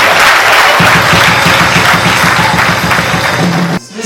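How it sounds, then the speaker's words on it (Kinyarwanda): Loud, close applause from a wedding crowd for the young men, sustained dense clapping with a steady rhythmic beat underneath, ending abruptly just before the close. "Kuri ubu rwose aba basore mwemerewe guha amashyi menshi cyane"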